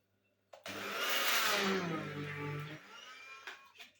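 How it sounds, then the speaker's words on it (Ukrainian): An immersion blender whirs steadily through a runny cheese mixture for a cherry cheese pie, starting abruptly, running loud for about two seconds, then easing off and stopping, with a few faint knocks afterward. "перебиваю погружним блендером до однорідної маси"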